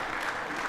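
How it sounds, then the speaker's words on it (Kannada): Brief burst of audience clapping at a Deepotsava stage program after a children's play, a short dense patter of many hands with faint voices mixed in. "ಎಲ್ಲರೂ ಚಪ್ಪಾಳೆ ಬರಬೇಕು"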